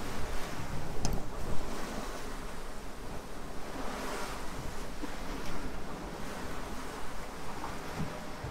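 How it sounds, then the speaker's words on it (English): Wind and waves heard aboard a sailboat making good speed: a continuous loud rush of wind buffeting the microphone blends with the wash of water along the hull, steady with no voices. "I knew there was going to be some wind, but didn't expect it to be quite as it was."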